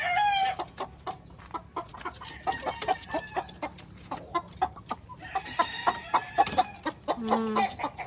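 Chickens cluck repeatedly with a rooster's crow mixed in, moderately close, in a busy farmyard chorus of short calls that rises in density toward the end.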